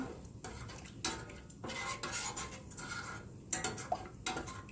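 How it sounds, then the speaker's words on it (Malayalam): A spoon scrapes and knocks around inside a metal pot of milk, irregular stirring strokes with a few sharp clinks, fairly close and quiet. "നമ്മൾ ഇളക്കി കൊടുക്കണം കേട്ടോ"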